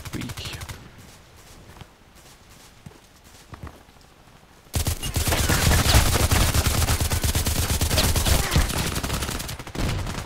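Rapid bursts of gunfire in the shooter Contract Wars, sparse scattered shots at first, then dense loud continuous firing with many rapid reports.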